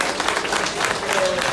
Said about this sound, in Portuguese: Uma salvinha de palmas para elas.